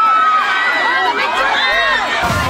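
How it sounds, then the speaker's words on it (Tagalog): A crowd of political supporters at a Philippine rally shouts and cheers, a loud, lively mix of overlapping excited voices and yells throughout, with a burst of noise at the very end. "At tingnan nyo ang mga tao mga kababayan, sigawan. Masayang masaya."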